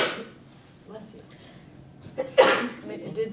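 A single sharp sneeze bursts out in an indoor live-stream discussion, brief and fairly close, surrounded by quiet room tone and soft speech.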